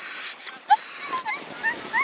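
Sled dogs at a glacier dog sledding camp in Alaska give high whimpers and yips that rise and fall in short bursts, fairly close and continuous over a low murmur of activity.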